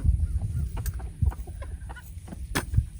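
A brown frizzle hen, molting heavily, clucks in short, soft bursts close by amid other chickens on a farm, with no voices over it.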